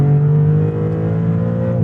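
A 2023 Maserati MC20 Cielo engine pulling hard under acceleration, a loud, close, steady droning tone that rises slightly with revs, heard alone for a couple of seconds.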